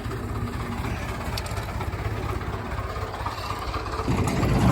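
A tractor engine idles low and steady with a running power take-off during hay baling, a continuous rumbling drone that grows slightly louder at the end.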